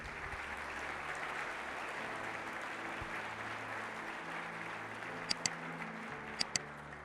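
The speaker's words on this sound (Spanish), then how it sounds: "¿Por qué le doy un aplauso al Señor?" A church congregation applauds in a steady, moderate wash of clapping, with a few sharp clicks near the end.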